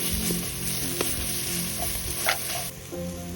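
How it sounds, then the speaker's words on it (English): Butter sizzling in a pan over an open campfire while cooking curry, a steady loud hiss with a few clinks and scrapes, no talking. "let's add a little butter just for the taste"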